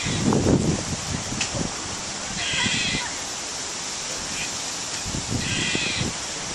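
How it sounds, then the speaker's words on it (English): Crows caw outdoors in a few scattered, fairly distant calls amid steady wind-like background noise, with a person speaking briefly in between, as a squirrel's noises are mentioned. "look at all these birds"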